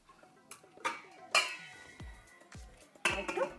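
A metal lid is set onto a cooking pot of sola kochu (taro stem) curry, a handful of sharp clanks and clinks spaced unevenly, close and moderately loud, with no talking.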